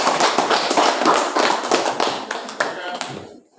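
A classroom group claps for the first presenting group, a brisk burst of many hands clapping nearby that thins out over a few seconds.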